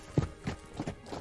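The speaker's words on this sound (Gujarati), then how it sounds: "વાણીએ ઘોડી હાંકી મૂકી." A mare's hooves clip-clop in a steady trotting rhythm as a merchant drives her away, about four or five soft, fairly close hoof strikes heard alone.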